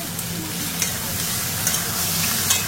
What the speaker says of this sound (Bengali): চিকেনটা এর মধ্যে দিয়ে দিচ্ছি।